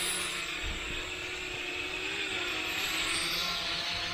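A small, light Neon toy drone hovers with a continuous whirring propeller buzz and a thin steady whine, close by and unbroken for a few seconds.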